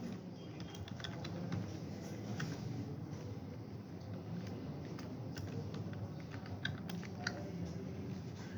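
Fairly faint keyboard typing while code is entered on a computer, scattered soft key clicks over a low steady room hum.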